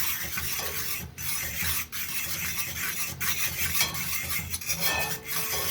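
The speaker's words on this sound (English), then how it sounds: "give this another stir" Pineapple upside-down cake mixture made with pineapple juice is stirred in a pot, a close, rasping scrape repeating in uneven strokes with short pauses between them.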